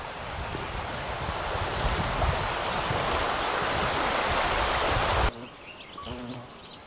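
The Trubia river flowing, a loud, dense, continuous rush of water heard up close that drops abruptly to a quieter, softer flow near the end.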